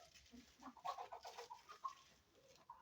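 Chickens clucking close by in short, irregular bursts, with a few higher squawks mixed in over a quiet background.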